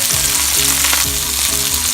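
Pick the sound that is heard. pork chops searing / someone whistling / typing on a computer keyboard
pork chops searing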